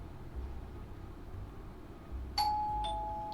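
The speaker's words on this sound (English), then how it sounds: "I gingerly press the doorbell beside the solid oaken door" A doorbell beside a solid oak door of a house outside the city rings a clear two-note chime, the second tone lingering, against a low background rumble.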